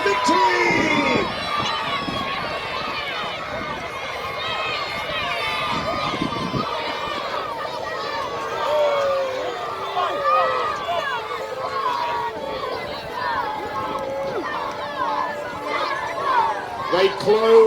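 Crowd noise at a Battle of Hastings reenactment, a dense wash of distant voices and chatter rising into cheers as spectators urge on their side, with a voice calling out over the steady roar.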